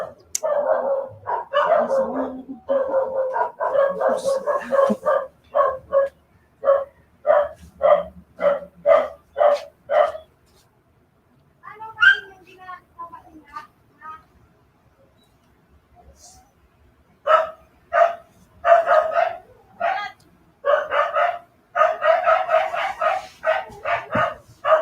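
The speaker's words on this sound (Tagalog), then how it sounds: "ang mga aso dito napakaingay" Several dogs bark loudly and close by in rapid bursts, pausing briefly before barking again in repeated volleys.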